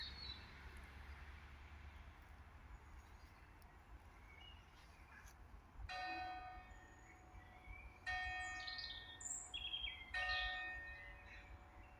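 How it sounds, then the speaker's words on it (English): The tower bell of St Peter's church rings out over a quiet outdoor setting, three or four bright struck tones with long ringing decays, moderately distant, amid faint birdsong and background hum. "And the bell of the church tower."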